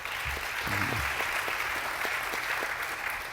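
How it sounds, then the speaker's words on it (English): A crowd claps steadily in sustained applause, dense and even throughout, with a brief voice audible near the start. "he might have gotten a little more applause than you did"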